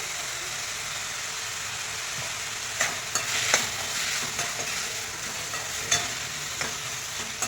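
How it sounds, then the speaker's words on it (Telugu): Tomatoes fry in a pan, giving a steady, fairly loud sizzle with occasional clicks and scrapes of stirring. "ఈ టమోటాను కూడా గుజ్జుగా కాకుండా కొంచెం మగ్గేటట్టు వేయించుకుంటే సరిపోతుంది"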